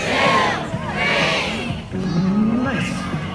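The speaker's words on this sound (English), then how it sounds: "that's enough clapping, guys" A street performance crowd at a busker festival in Kingston, Ontario, a loud mix of cheering, shouting and excited voices, including children, swelling and fading in waves.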